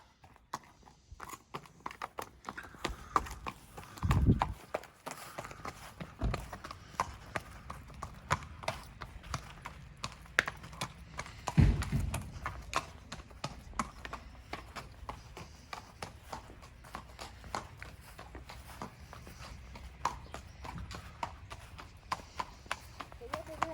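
Horse hooves clip-clop in a steady, fairly quick rhythm throughout, moderately close, with someone talking over them for much of the time and a couple of louder knocks.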